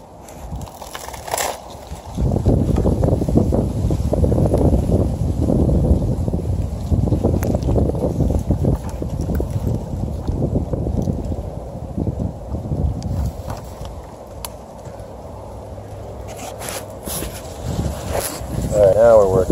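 Gusty wind roars steadily around someone perched high at the top of a coconut palm in the Florida Keys, a loud continuous rush with buffeting peaks and no break.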